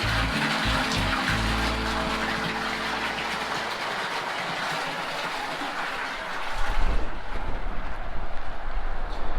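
Spring water gushes steadily from a fill-up spout on a roadside stop near the Lake Superior shore in Wisconsin, a continuous loud broadband rush that grows stronger and rougher in the last few seconds.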